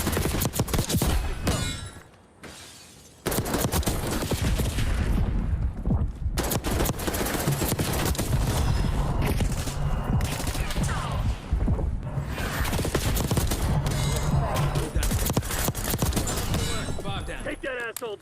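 Dense, continuous gunfire and explosive bursts in a Call of Duty esports match, loud and rapid with crashes and shattering, under excited commentary and player voices throughout.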